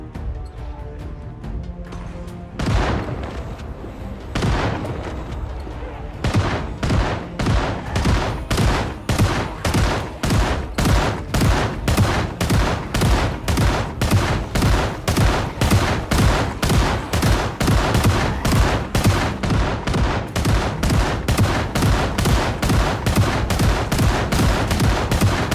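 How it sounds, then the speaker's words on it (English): Shotgun blasts against crowds of undead in the video game Project Zomboid, starting with a few scattered shots and building into a long, rapid, steady barrage of loud, close booms. "Going fireless, I used my shotgun into the afternoon."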